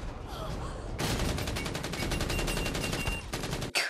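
Sustained rapid automatic gunfire from a battle scene in the 2013 film Man of Steel, a loud dense fusillade of shots that suddenly swells and runs continuously before cutting off.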